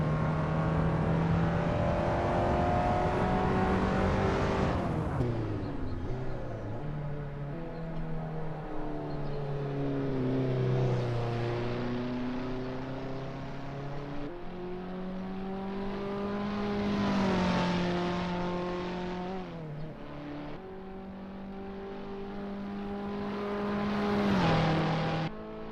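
An Abarth 500 race car in the Assetto Corsa driving game drones continuously around the Prague circuit, its engine pitch climbing and dropping through gear shifts and revs over the lap.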